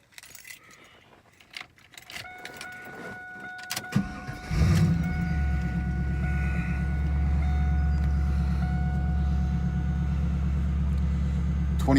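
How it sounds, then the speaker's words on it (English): A 1999 Pontiac Trans Am WS6 starts after keys jangle, its engine catching at about four seconds and settling into a loud, steady low idle rumble that continues to the end. "let's start her up."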